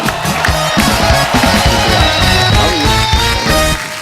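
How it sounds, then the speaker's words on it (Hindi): A TV comedy show studio audience claps and cheers to welcome a guest, a continuous loud crowd roar mixed with upbeat band music and a driving rhythmic beat, fading slightly at the end. "जोरदार तालियां शैलेश भाई के लिए"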